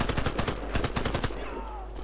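Fast machine-gun fire from the shooter game Warface rattles in tight repeated bursts, loud and close, then breaks off into quieter game ambience with a faint whistling sweep.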